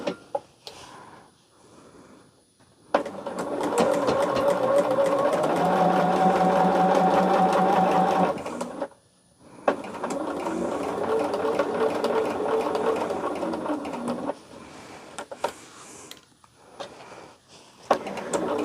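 A sewing machine runs steady bursts of stitching along quarter-inch seams on a quilt test block, stopping briefly between runs, close and clear with no talking.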